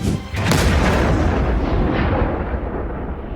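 A massive, rumbling ballistic missile explosion fills the sound, loud and broad, slowly fading over a few seconds with no voices, in Tel Aviv.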